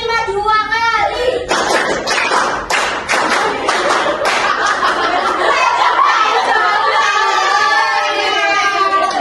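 A group in an elementary-school teaching simulation claps in patterned beats, bursts of sharp, close hand claps in quick counted groups, with voices talking and chanting before and after.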